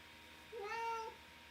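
A house cat named Simon, sitting up high by a window that has just been shut, gives a single drawn-out meow, close and fairly quiet against a still room.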